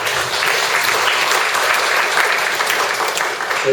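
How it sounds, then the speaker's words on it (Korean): Steady, dense applause from an audience at a religious gathering in a memorial hall, even and continuous with no voices standing out. "박수 한번 보내주시면 좋겠습니다"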